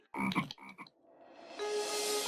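Cartoon-style frog croaking, a few quick throaty croaks close up, followed by a rising whistle-like tone, with no talking.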